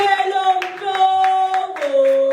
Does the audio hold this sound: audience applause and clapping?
yes